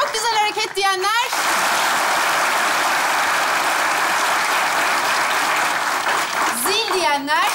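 Studio audience applause on a Turkish comedy sketch show, a dense sustained roar of clapping lasting several seconds and fading at the end, with voices talking just before and after it.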